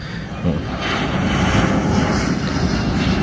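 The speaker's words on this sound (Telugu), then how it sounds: "చూడండి ఇది బోయింగ్ సెవెన్ జీరో సెవెన్" Boeing 707 taking off at RDU airport, a loud, steady roar of jet engines that holds across the whole stretch, broad and rumbling with no gaps.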